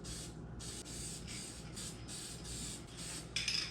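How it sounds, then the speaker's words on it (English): A short can of copper spray hisses in steady bursts onto an engine gasket, close and fairly quiet, with a brief sharper hiss at the end. "I like to give mine just a little spritz of copper spray before I put them on there."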